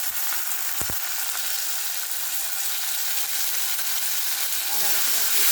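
Ginger garlic paste frying with browned onions in oil for a fish curry, a loud continuous sizzle with a few brief stirring scrapes, no talking.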